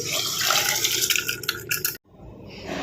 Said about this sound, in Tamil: அடுத்தது நம்ம ஊற வச்ச அந்த அரிசி பருப்பு இதில் சேர்த்துக்கலாம்